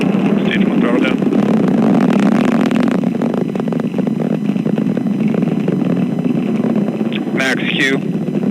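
Falcon 9 rocket engines roar during a crewed Dragon launch, a loud, continuous broadband rumble that persists throughout, with a flight controller's voice announcing over it.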